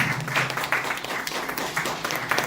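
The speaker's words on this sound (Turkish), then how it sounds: "Onları bir kez daha alkışlıyoruz" An audience applauding at an exhibition opening ceremony, a dense, steady round of clapping from many hands in a hall, with little talk.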